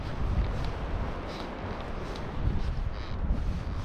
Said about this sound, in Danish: Det er fuldstændig vanvittigt, som det blæser, mand.